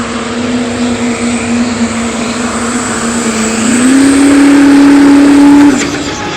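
A work stock class pulling truck, the Silver Bullet, drags a sled at the Golden State Invitational in Madera, California. Its engine roars loud and steady, steps up in pitch partway through the pull, then drops off near the end.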